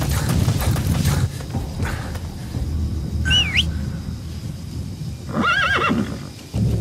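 D-Horse from Metal Gear Solid V whinnies twice in-game, a short rising-falling neigh then a longer wavering one, over low rumbling game ambience with some clip-clop of hooves.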